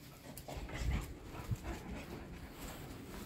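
Five-month-old English cocker spaniel puppies whimper and pant faintly, with a few soft yips and thumps up close in a quiet room.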